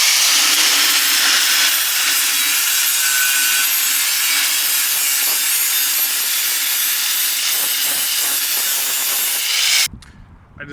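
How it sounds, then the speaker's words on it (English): A hand grinder fitted with a sanding disc works steadily against a car's rear subframe on a Toyota Celica, a loud continuous abrasive rasp lasting nearly ten seconds before cutting off abruptly. "So now we're going to try grinding this down with a grinder with a sand disc attachment."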